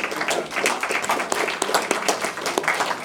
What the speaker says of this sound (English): Feel free to take a seat and a round of applause.